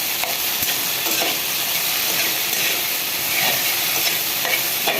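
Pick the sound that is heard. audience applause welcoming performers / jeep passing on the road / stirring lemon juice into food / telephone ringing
stirring lemon juice into food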